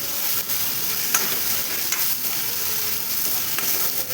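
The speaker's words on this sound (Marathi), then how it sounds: "आता वाटण केलेलं आहे ते पण याच्यामध्ये घालून घ्यायचं आहे आणि छान असं परतवून घ्यायचं आहे सगळा" Ground masala paste (vatan) fries in a pan for vada pav, giving a dense, continuous hiss and sizzle with a few faint stirring scrapes and no voices.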